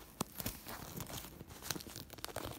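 Packaging being cut open up close, with quiet irregular crinkling and tearing plus sharp little snips and rustles over a few seconds.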